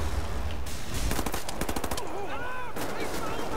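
Submachine gun firing in the shooter Wolfenstein: The New Order: a rapid, loud burst of closely spaced shots rattles through the middle of the clip over steady game ambience.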